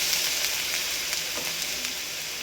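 Garlic sizzling in hot oil in a pan while making orange chicken, a steady broadband frying hiss with faint crackles running throughout, close and moderately loud with no talking.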